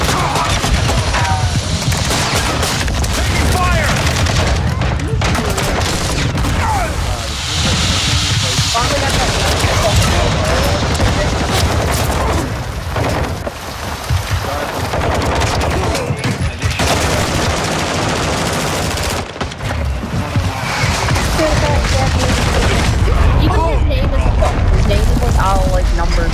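Dense, continuous gunfire in a Call of Duty match, bursts of automatic fire and booms layered together at loud level, with shouted voices over the battle.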